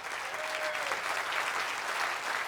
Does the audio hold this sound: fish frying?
no